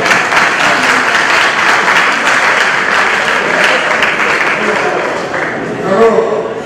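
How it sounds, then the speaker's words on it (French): An audience at a conference on the slave trade in Moanda applauds loudly and steadily, the dense clapping tapering slightly toward the end with a voice briefly rising over it. "Merci pour vos applaudissements."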